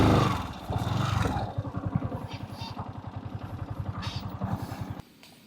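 A motorcycle idles with a steady, rapid low thump and putter after being ridden and pulled up to park, running loud and close before its engine cuts off abruptly near the end.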